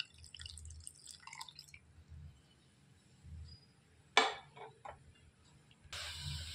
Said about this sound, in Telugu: ఎసరు అనేది మరిగిపోయిందండి